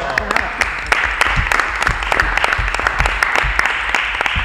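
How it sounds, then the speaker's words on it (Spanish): Sustained applause from a crowd at a Christian Democratic Party assembly in Chile, loud and dense with sharp individual claps standing out, and a few voices underneath. "Un aplauso por esto, ¿eh? es importante."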